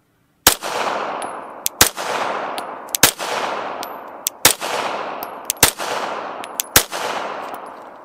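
A Glock 19X pistol fitted with a Legion compensator fires a series of sharp, loud shots at irregular intervals, each crack followed by a short ringing decay, with a few quicker pairs mixed in.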